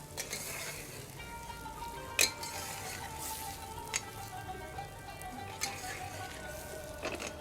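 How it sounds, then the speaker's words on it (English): Tender lamb is stirred gently in a cooking pot with masala, a soft steady sizzle under the scrape of the spoon, with a few sharp clinks against the pot's side. "Make sure that you stir the lamb gently, otherwise it will break because it's already tender."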